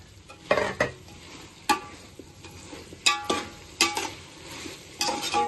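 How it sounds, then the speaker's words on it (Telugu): Soaked meal maker chunks stirred into frying biryani masala, with a soft sizzle under repeated sharp clinks and scrapes of a spoon against the pan, close and irregular. "మనం ముందుగా నానబెట్టుకున్న మిల్ మేకర్స్ పిండికిని ఇప్పుడు వేసుకుందాం."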